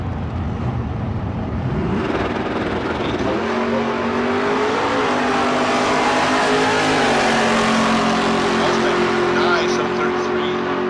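A 1965 fastback drag car at the Street Car Super Nationals in Las Vegas makes a hard run, its loud engine roaring and climbing in pitch as it accelerates away, with an announcer talking over it throughout.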